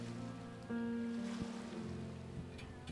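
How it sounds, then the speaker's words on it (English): Faint night ambience on Puerto Galera beach: soft waves washing and a low wind hum, with a steady tonal drone running underneath, quiet and distant with no voices. "Crickets sing to the rhythm of the waves and the humming of the wind."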